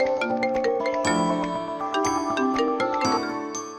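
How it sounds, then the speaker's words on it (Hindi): A mobile phone rings with a melodic jingling ringtone, a bright run of chiming notes that plays steadily and clearly. "आ गया तुम्हारे भैया का फोन।"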